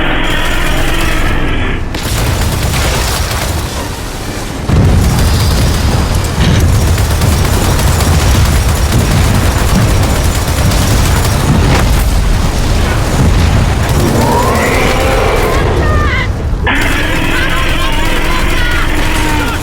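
Loud, continuous gunfire and heavy explosions from the video game Gears of War 4 during a boss fight, with dense booming blasts and mechanical clatter, plus shouted voices at times.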